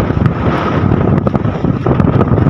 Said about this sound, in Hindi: बहुत तेज़ हवा है सुबह की।